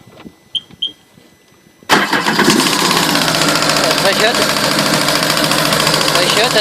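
A Sea-Doo 260 jet ski engine starts abruptly and runs loudly and steadily, with irregular clattering, knocking noises riding on the sustained roar; a few faint sounds precede the startup.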